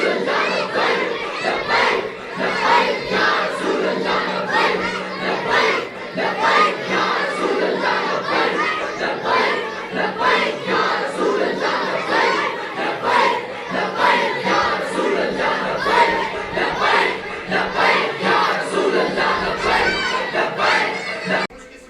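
A large crowd at a Mahfil-e-Milad gathering for 12 Rabi ul Awal at Jamia Masjid Gulzar chants religious slogans in loud, rhythmic unison, a dense wall of voices rising and falling in steady bursts throughout.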